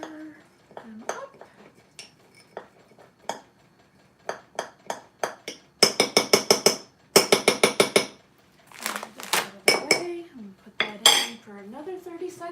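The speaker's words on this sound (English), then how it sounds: "So now we're going to go to our Enjoy Life chocolate chips. And stir them up." A metal spoon stirring chocolate chips in a bowl in a home kitchen, giving quick bursts of bright clinking and scraping against the bowl's sides. A voice talks between the bursts.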